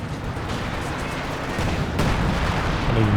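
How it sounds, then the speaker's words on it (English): Sector artillery barrage in Company of Heroes 2, a dense, steady roll of booming impacts and gunfire that swells louder toward the end, with a commentator speaking over it. "And now Kuhn dropping in the sector artillery"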